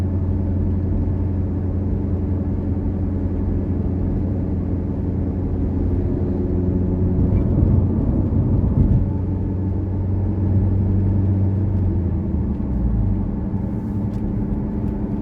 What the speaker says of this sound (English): Tell the sound of the exhaust from the inside. It's not that loud. It's got a little bit of a hum